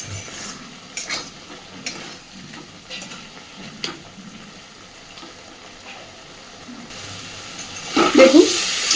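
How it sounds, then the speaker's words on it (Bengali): Masala spices are stirred and fried with potatoes in a pan for a rohu fish kalia. A spoon scrapes and taps in scattered strokes with a faint sizzle, and a louder burst of sizzling and clatter comes near the end. "এই আলুর সাথে মশলাটাকে এবার যত ভালো কষানো হবে"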